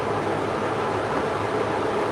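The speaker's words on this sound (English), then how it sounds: "He needs a fan, so he's got a fan." An electric fan runs with a steady broadband whoosh, loud and close, holding an even level throughout.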